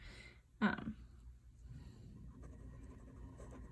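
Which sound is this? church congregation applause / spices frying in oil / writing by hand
writing by hand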